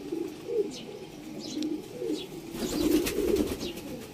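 Rampuri pigeons coo in low, rolling phrases, several soft calls repeating close by with a steady rhythm and no talking.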